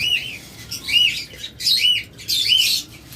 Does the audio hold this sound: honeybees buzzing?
no